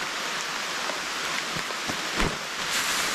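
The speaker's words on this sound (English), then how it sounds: "it started raining" Rain falling steadily on a wet-weather tarp campsite, a loud broadband hiss with occasional heavier drop impacts, continuous and close with no talk.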